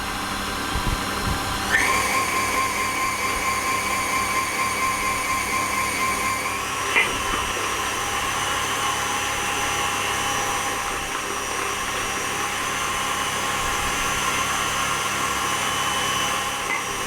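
Electric mixer beating an egg into cake batter, a loud continuous high whir that stays steady throughout with slight pitch shifts, close by with no talk.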